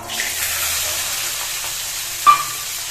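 Green peas tipped into hot oil with ghee, cardamom, cloves and cinnamon give a loud, continuous sizzle, close by, with a brief clink near the end.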